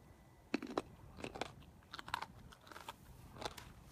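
A freshly harvested raw sweet potato being bitten and chewed, with several sharp, crisp crunches in irregular bursts, fairly soft and close, and no talking.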